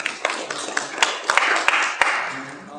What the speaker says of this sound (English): so I get a real rush of applause